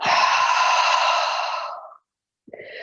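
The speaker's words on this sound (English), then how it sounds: "and breathing out." A long, steady exhale through the nose or mouth during gentle floor yoga, loud and close, tapering off before a short pause and the start of the next breath.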